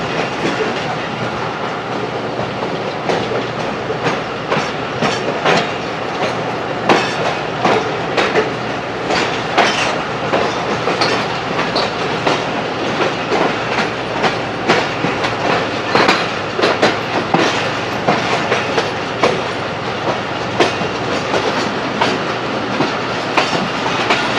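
The 171-Up Sialkot Express departs in heavy rain with a loud, continuous rumble, rhythmic clickety-clack of wheels over rail joints and occasional squeals, heard close throughout.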